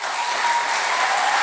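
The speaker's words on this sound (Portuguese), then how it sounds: "Merece uma salva de palmas o nosso maestro." Applause for the conductor at a philharmonic band's 120th anniversary celebration, a loud, dense, sustained wash of clapping from a crowd.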